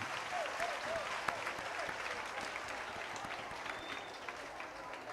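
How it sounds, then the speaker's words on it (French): Students at a secondary school ceremony in Cotonou, Benin, applaud in a steady, continuous wash of clapping at moderate distance, with faint voices and a brief whistle-like tone rising above the crowd. "Applaudissez-vous parce que vous êtes dans le premier collège de Cotonou."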